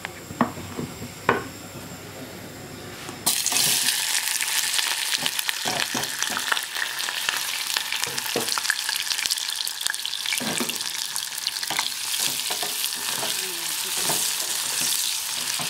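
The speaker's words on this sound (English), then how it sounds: "We're going to put the onion in the oil and start frying the whole thing." After a quiet start, onions hit hot oil and a loud, steady sizzle takes over, with occasional stirring clinks and scrapes through the frying.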